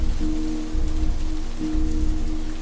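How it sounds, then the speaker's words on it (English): Steady rain taps against a window pane in a continuous, even patter at close range, with a faint low hum running underneath and no voices. "the tapping of raindrops on the window pane set an eerie backdrop"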